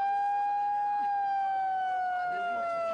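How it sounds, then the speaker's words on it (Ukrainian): A wailing siren sounds at an anti-nuclear protest of about 200 people in Belgium, its tone sliding steadily downward, loud and continuous throughout with faint background noise. "Гудок сирени і радіація скошує всіх на смерть."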